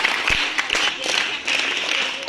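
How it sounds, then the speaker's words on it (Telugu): Children clap together for a school skit about soldiers at a cultural programme, a short burst of scattered applause from a small group with a voice mixed in. "వాళ్ళందరికీ క్లాప్స్ ఇద్దామా?"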